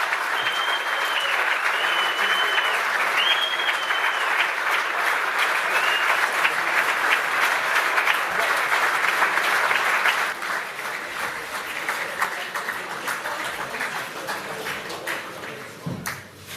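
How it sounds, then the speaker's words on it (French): A hall audience gives a standing ovation to Jean-Louis Borloo at a UDI party event, loud sustained clapping that swells and holds, then eases slightly while continuing to the end. "Vous pouvez lui faire une standing ovation."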